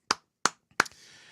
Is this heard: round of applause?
yes